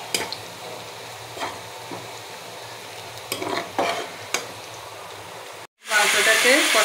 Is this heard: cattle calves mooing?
no